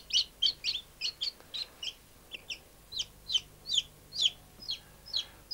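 Newly hatched chicks cheeping in a steady series of high, bright peeps, close and fairly quiet, with no talk.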